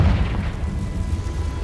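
Confringo fire spell explosion in the video game Hogwarts Legacy, a short heavy low boom with a rumbling tail that fades over a second or so.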